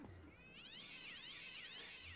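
Cat meowing in the Minecraft Crazy Craft mod game, one long wavering high-pitched yowl lasting most of the moment, faint and distant, with no talking.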